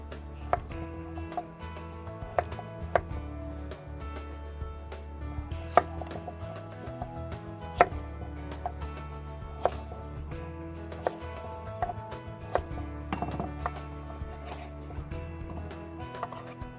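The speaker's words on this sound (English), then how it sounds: "This yam we picked up from our organic farm, and we need to cut this" A farm-grown yam is diced into even cubes on a board, a knife landing in a steady run of crisp close chops, some hits sharper than others, with no talking.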